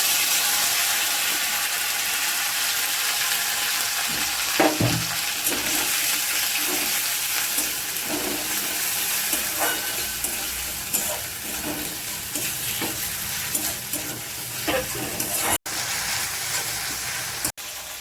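Tomato paste fries in oil with whole garam masala, a bay leaf and cumin seeds, a loud, continuous close sizzle and hiss with intermittent stirring scrapes and crackles running throughout, and no voices.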